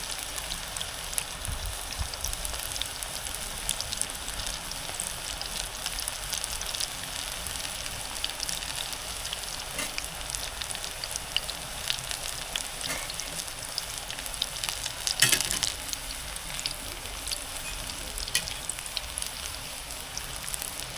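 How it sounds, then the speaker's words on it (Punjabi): Spinach and onion pakoras fry in hot oil with a continuous soft crackling sizzle that holds steady throughout, with one brief louder clink partway through. "ਇਹ ਚੰਗੀ ਤਰ੍ਹਾਂ ਰੜ ਗਏ ਫਿਰ ਆਪਾਂ ਕੱਢਾਂਗੇ ਲੋ ਪਕੌੜੇ ਆਪਣੇ ਬਣ ਗਏ"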